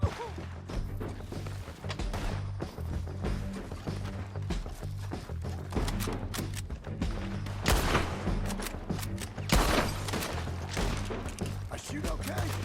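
Gunfire in Red Dead Redemption 2, with repeated sharp shots and crashes scattered over a steady low rumble, some bursts louder and closer than others.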